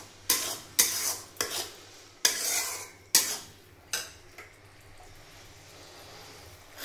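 Egg curry masala is stirred in a pan with sugar added, a spoon scraping in several distinct strokes over a soft sizzle of frying oil that fades to a low hiss.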